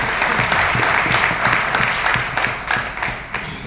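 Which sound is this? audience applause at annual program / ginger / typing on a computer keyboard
audience applause at annual program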